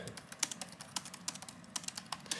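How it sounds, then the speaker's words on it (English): Rapid typing on the compact keyboard of a GPD P2 Max netbook, a steady patter of close, crisp key clicks with uneven rhythm and no talking. "Yeah, so practice some typing on it, some sentences I would type."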